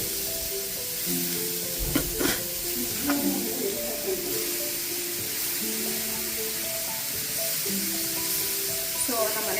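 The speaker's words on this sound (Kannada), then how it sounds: "ಅದೇ ತುಪ್ಪಕ್ಕೆ ನಾನು ಆಲ್ರೆಡಿ ಗ್ರೇಟ್ ಮಾಡಿರೋಂಥ ಕ್ಯಾರೇಜ್ ಹಾಕ್ತಾ ಇದ್ದೀನಿ ನೋಡಿ" Grated carrots fry in ghee for carrot halwa, giving a steady close sizzle and hiss throughout while a person talks over it.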